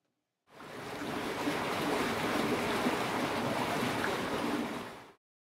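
Water pours and churns steadily as a water wheel turns in the River Mole at Painshill Landscape Park, Cobham, Surrey, a loud broadband rush that holds evenly for about five seconds with no voices.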